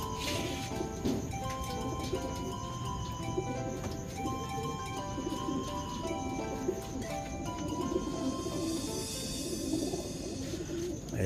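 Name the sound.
pigeons cooing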